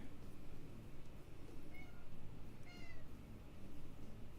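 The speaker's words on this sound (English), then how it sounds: "My cat's yelling at me." A cat meows twice, short and fairly faint, the second call a little longer, against a steady low room hum.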